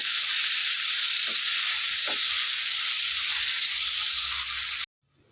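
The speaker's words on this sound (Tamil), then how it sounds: "இந்த தக்காளி நல்லா மசிஞ்சு வரட்டும் அது வரைக்கும் வதக்கிட்டுங்க" Chopped onions and tomatoes sizzle steadily in a pan for chicken gravy, a continuous close hiss with a couple of soft stirring scrapes before the sound cuts off abruptly.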